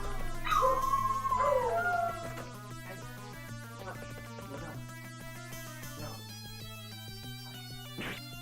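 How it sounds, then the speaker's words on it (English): Dogs howling and whimpering nearby in a house, loud yelping cries in the first two seconds, then fainter whines under steady background music, with another brief howl near the end. "let me tell the dogs that I'm here. They're freaking out."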